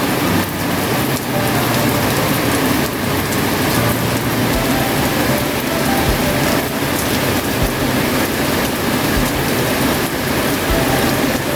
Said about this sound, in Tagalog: umuulan po.